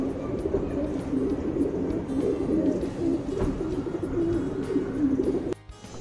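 Patta pigeons coo in low, repeated throaty bursts close by, the soft rolling calls overlapping steadily with faint background noise.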